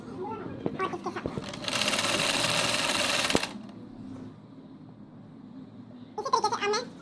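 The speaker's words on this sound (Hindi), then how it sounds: "इसी तरीके से अब मैं पूरी लेंथ में इसको सिलाई करूंगी।" A sewing machine stitches lace in one steady, loud run of about two seconds, with someone talking before it and again after it stops.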